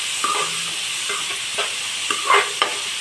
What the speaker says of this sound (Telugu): ఏవైతే కట్ చేసిన ఉల్లిపాయలు అవన్నీ ఫ్రై చేసేస్తున్నాను